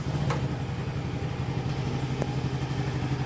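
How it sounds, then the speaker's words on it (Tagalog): A Yamaha Gravis scooter engine runs at a steady idle during an oil flush, a close, even mechanical hum with faint clatter and a few brief clicks, with no voices. "pwede ko nang i-start itong makina"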